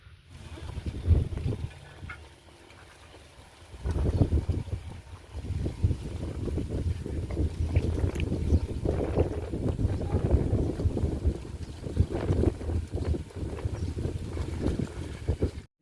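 Wind buffets the microphone in gusty, uneven bursts on a farm field, with a low rushing roar that rises and falls over a quiet outdoor background.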